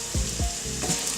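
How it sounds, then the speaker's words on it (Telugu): Chopped onion and spices for sambar fry in hot oil, a close, steady sizzle with a couple of soft stirring scrapes, no speech. "1 ఉల్లిపాయ అన్నీ వేసి వేయించాలి."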